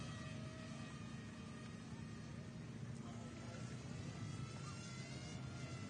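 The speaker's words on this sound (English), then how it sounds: "that's a drone." A drone buzzes overhead at an outdoor event in Weatherford, Texas, a steady droning hum with tonal whine running throughout, fairly loud and continuous under a broadband background wash.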